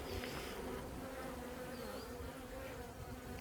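Honeybees buzzing steadily around an open brown hive during an inspection, a soft continuous hum close by with individual bees whining past now and then.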